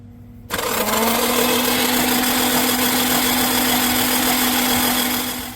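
A Nissan SR20DET engine with a misfire, fluid pooled on cylinder 1 and a suspected faulty fuel injector, is turned over and settles into a loud, steady, continuous drone after a brief quiet start.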